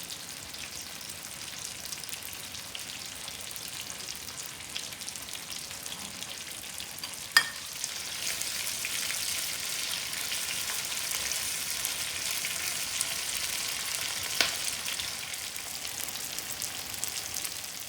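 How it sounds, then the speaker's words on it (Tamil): Fish fries on a tawa in oil, giving a steady, close crackling sizzle that holds for the whole stretch with a couple of sharp pops and no talk. "நல்லா ஃப்ரை ஆகிடுச்சு, ஆயிலெல்லாம் லீக் அவுட் ஆகுது"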